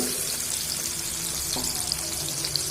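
Water poured from a mixer jar into a cooking pan with hot oil and ghee while making matar paneer, a steady close rush and hiss that continues throughout at moderate loudness.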